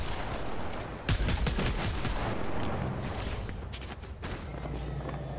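Rapid bursts of gunfire in Fortnite crack through a dense, busy game mix, with a sharp cluster of shots near the start and scattered reports continuing over steady background noise.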